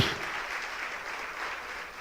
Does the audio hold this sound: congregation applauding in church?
yes